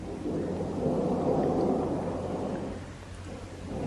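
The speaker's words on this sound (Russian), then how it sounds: "Снова надвигается буря." A steady low rumble of thunder rolls under dense rain, swelling and then slowly fading away with no voices.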